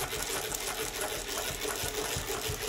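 A Mauzer chainstitch machine runs steadily while sewing a two-thread ray stitch, producing a continuous fast mechanical whirr with a rapid rhythmic clatter, close and even throughout with no talk.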